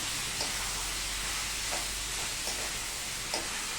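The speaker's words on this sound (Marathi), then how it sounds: "आता हे बटाटे आहेत हे याच्यामध्ये टाकूया हे सगळं हलवून घ्यायचं छान" Potatoes and tomatoes being stirred together in a pan for a potato-tomato curry, giving a steady frying hiss with a few soft scraping strokes throughout.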